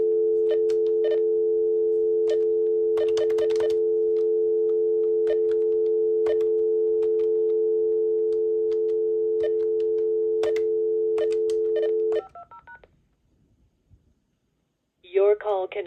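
An AT&T 821 phone gives a steady, loud dial tone while short touch-tone beeps cut in at irregular moments. The tone then stops, a few brief beeps sound, and after a short silence a recorded voice starts.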